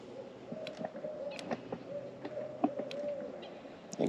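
An owl hoots in an outdoor setting while crappie fishing, a few soft, low, tonal calls spaced across several seconds against quiet background noise.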